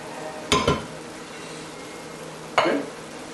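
Two loud, close splats as drained canned beans drop into a chili pot, about two seconds apart, over a steady low background hum.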